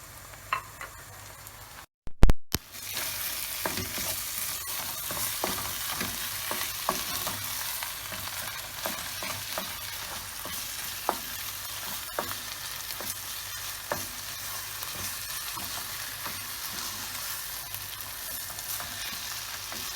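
Small garlic cloves frying and being stirred in a pan while making stuffed meatballs (içli köfte), giving a steady close sizzle with scattered crackles and spoon scrapes, a brief dropout near the start, no talk.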